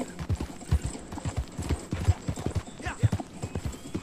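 Horses in a video game clip-clop along at a steady walking rhythm, hoofbeats close and distinct, with faint voice sounds mixed in underneath.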